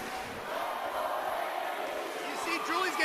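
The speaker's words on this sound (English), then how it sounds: "And the crowd is chanting" A crowd chanting during a Muay Thai fight, a dense roar of many voices with rhythmic rising swells, steady and moderately loud while a commentator talks over it.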